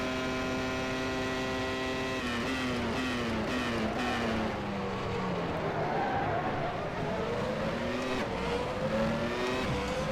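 A 1996 Formula 1 car engine in the rFactor 2 racing game at Magny-Cours whines continuously, its pitch sweeping down and then climbing again through gear changes, loud and close, with a steady hum beneath.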